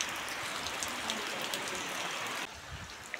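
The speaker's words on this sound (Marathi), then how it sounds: "मस्त पाऊस पडलाय" Heavy rain falls in a village, a faint, even hiss of drops on surfaces that holds steady throughout, easing slightly near the end.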